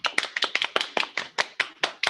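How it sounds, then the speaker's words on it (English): A small group claps after a Samoan ti leaf weaving workshop presentation, a sparse, close run of distinct individual claps with clear gaps between them, fairly quiet. "Could we have a round of applause for Miss Hua?"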